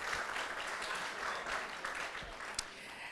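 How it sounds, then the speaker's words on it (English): An audience at a Johns Creek City Council campaign launch event claps for the last speaker, a steady, moderately faint patter of many hands lasting a few seconds without voices over it. "let's give one more round of applause for our last speaker"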